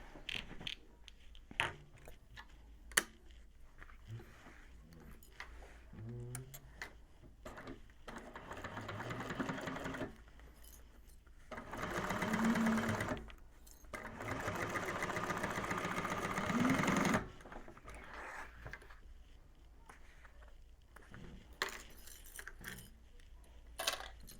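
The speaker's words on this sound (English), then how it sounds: "fold that seam towards that bottom panel and top stitch through the bottom panel" A sewing machine top stitches through the bottom panel of a Scottie Convertible Bag with drop-in lining, running in two sustained mechanical bursts midway, with quieter fabric handling and clicks before and after.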